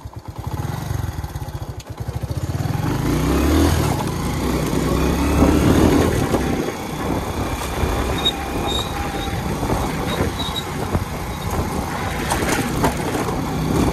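Motorbike ridden along a short village route, its engine droning steadily and close with changing revs and passing rumble, plus faint higher whines, throughout with no clear talk.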